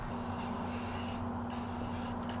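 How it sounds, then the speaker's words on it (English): An aerosol can of rust protection spray hisses in close, continuous bursts onto a Ford Transit Connect van, with a short pause between them and no voices. "I'm going to spray the van in the"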